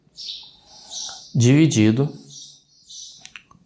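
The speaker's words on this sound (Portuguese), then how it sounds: "perdão pelo passarinho" A small bird chirps in thin, high calls before and after someone speaking indoors during a lecture, the chirps faint and scattered around his voice.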